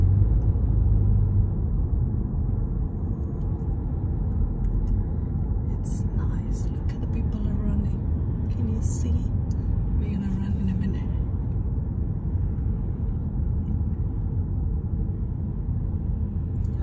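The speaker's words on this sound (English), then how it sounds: "We are entering in the car park now." A car rolls into a car park, its engine and tyres giving a steady low rumble up close, with people talking quietly over it.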